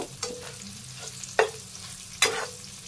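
Fried rice being stirred with ghee in a pan over low sizzling, with three distinct scraping strokes of the spoon spaced about a second apart, close and moderately loud, no talking.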